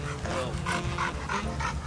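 A dog pants rapidly and whimpers close by, breathy rhythmic panting mixed with soft whining and a continuous low background hum.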